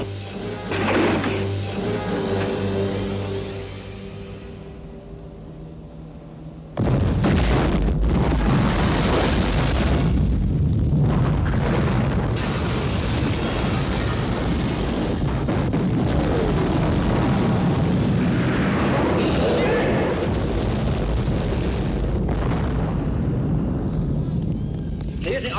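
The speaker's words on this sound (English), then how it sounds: "They're using artillery on us." Artillery fire and explosions from the Die Hard film, a loud sustained roar of booms and crashes that starts abruptly and keeps on, mixed with voices and music.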